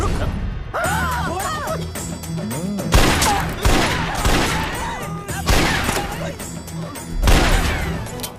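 Bursts of rapid gunfire crackle repeatedly over a dramatic music bed, with a few heavier impacts between volleys, loud and close.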